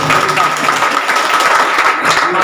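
A crowd at a women's wing community gathering with bhajan and Sundarkand recitation claps loudly to welcome a guest, dense applause filling the space with a voice speaking over it.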